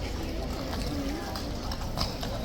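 Horse hooves clip-clop on hard ground at the Horse Guards as a horse is moved from one box to another, a few distinct steps under steady crowd noise and talking.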